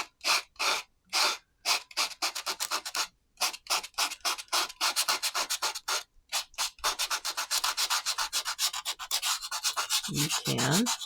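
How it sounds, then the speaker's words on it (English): Watercolor paper scratched to lift highlights, with dry scraping strokes, first slow and spaced, then quick and continuous, close and fairly crisp. "See how it scratches highlights depending on how hard you"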